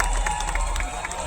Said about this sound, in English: Where's the crowd cheer?